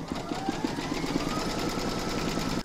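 An embroidery sewing machine stitching a round on an in-the-hoop jungle animal quilt block, a close, steady rapid mechanical whir with regular needle beats, continuous until it stops abruptly at the end.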